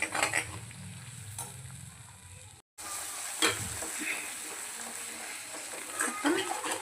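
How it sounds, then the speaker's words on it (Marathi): Masala sizzles and sputters in a hot pan, with spatula scrapes and stirring clinks breaking through the steady frying hiss. "आपला काळा मसाला ॲड केलेला आहे तर छानपैकी आपण असं परतून घेऊया"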